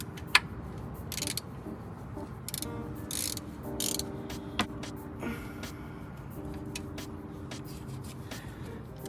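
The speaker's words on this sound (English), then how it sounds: "I'm gonna go ahead and put the new drain bolt back in with the new crush washer." A ratchet tightens a new transmission drain bolt with a crush washer on a 10th-generation Honda Civic CVT, with close bursts of rapid metallic clicking in short runs and some faint clanks between them.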